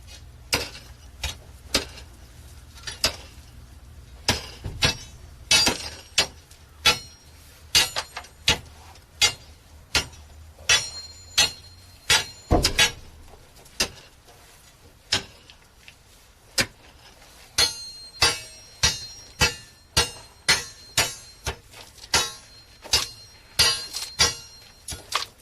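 A chisel being hammered into a broken water pipe: sharp metallic strikes come in uneven runs and then in a quicker steady rhythm, close and ringing, with brief pauses between sets of blows.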